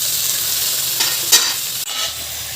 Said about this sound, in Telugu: వేయించి కడిగినా కూడా మళ్ళీ ఆయిల్లో ఫ్రై చేయాలి